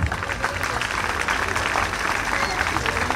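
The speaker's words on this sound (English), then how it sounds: "A round of applause for them." A school carnival audience applauds, a dense and steady wash of clapping with crowd murmur and voices mixed in throughout.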